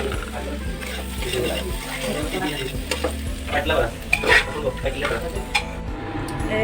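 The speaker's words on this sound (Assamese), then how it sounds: "এতিয়া মই ইয়াতে কণীটো দি দিম।" Egg is stirred into pork and tomato frying in a pan. Close, continuous sizzling mixes with scraping and clinks of a utensil against the pan, and a voice talks over parts of it.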